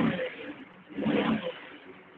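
A car engine revs under a few throttle blips, with two swells of mid-range rumble about a second apart, fairly close, with no talk over it.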